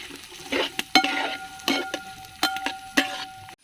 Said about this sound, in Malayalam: അതിന് ശേഷം ഒന്ന് ഇളക്കി കൊടുക്കുക.